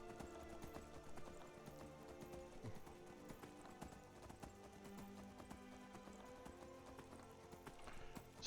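A horse ridden in Skyrim gives steady, rhythmic clip-clop hoofbeats at a trot, fairly faint and even, over soft game ambience and music.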